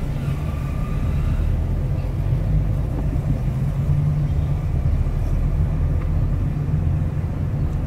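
Car pulling away in first gear, a steady low engine rumble and road hum filling the whole stretch, close and continuous with no talking.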